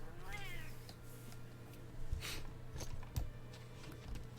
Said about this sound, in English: The feline starts cheering.